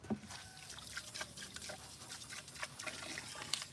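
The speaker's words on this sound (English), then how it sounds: "I'm going to come over here and put this in there, wash my hands." Water trickles and splashes quietly as hands are washed, a faint, uneven dribbling with small drips, close by and soft.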